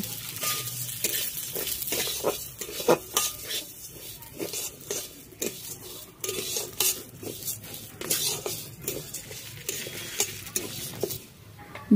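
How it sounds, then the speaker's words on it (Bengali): Mung dal frying in mustard oil in a wok, with steady stirring scrapes and utensil clinks against the pan over a soft background sizzle, close and fairly loud. "এতে এবার মুগ ডালগুলো ভালো করে ভেজে নেব।"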